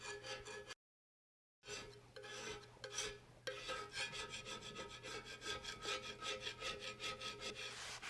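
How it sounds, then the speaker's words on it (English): A crude scraper is worked back and forth over a Delta Unisaw table saw top, popping off spilled residue in a run of close, rasping strokes. One brief silent gap breaks the strokes. "I'm going to use this rather crude scraper just to go over it and pop off some of that stuff"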